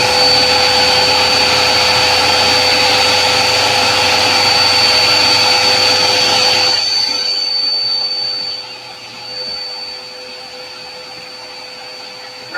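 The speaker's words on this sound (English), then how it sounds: "Let me vacuum this up real quick" A shop vacuum cleaner roars loudly and steadily with a high whine while sucking up balsa wood dust, then powers down and winds to a quieter hum.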